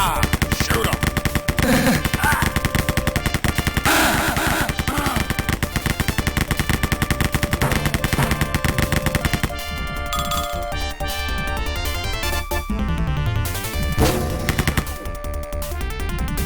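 Rapid automatic gunfire from the first-person shooter Wolfenstein, played with Rise of the Triad-style items and a chain gun, rattles on dense and loud throughout, with music and game effects layered underneath.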